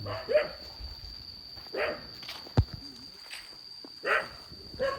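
A dog in a rural Thai village barks several times in short, separated bursts at moderate distance, over quiet background noise with one sharp knock.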